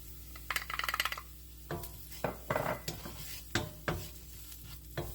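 Spices are tipped into a one-pot dish of softened onions cooking for creamy pork with butternut squash, giving a run of rattling scrapes and clinks of a spoon against the pot over a quiet sizzle.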